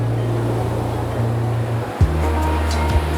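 Steady wash of ocean surf at a sandy shore, a constant broadband roar with a low hum running underneath and a couple of faint knocks near the end.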